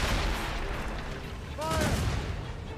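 Ship cannons and guns firing in the Assassin's Creed Rogue video game, a dense, continuous barrage of booming shots under shouted voices and game sound.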